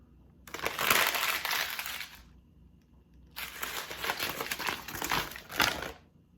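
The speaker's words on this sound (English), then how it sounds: "If I crumple the paper up" A piece of paper crumpled up by hand in two loud, close bursts of crackling and crinkling, the first about two seconds long, then a pause, then a longer crushing stretch of about three seconds.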